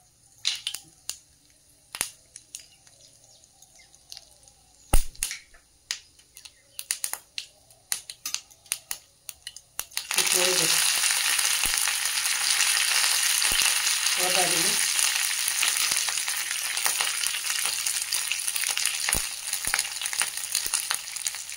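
Quiet scattered clicks and pops, then a sudden loud, steady crackling sizzle as cumin and mustard seeds splutter in hot oil, continuing without letup.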